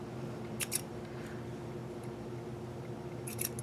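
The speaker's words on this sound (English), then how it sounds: "I'm going to cut these edges." Scissors trimming the edges of a handmade stamped greeting card: two short crisp snips close by early on, then a long quiet stretch over faint background hum, and another pair of quick cuts near the end.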